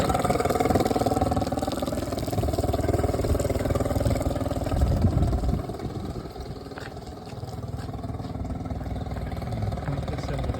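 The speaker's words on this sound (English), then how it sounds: "I'm going to turn the engine off and turn it back on so you can hear what that sounds like." A 40 HP Mercury outboard on a 2011 Tracker Super Guide 16-foot V-hull boat runs with a steady mid-pitched drone, dips quieter for a moment, then comes back up to a steady run.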